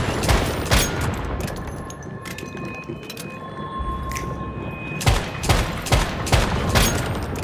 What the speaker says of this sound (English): shoot the moving things.